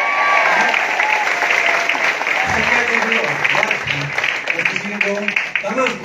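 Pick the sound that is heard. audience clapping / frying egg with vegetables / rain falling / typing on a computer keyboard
audience clapping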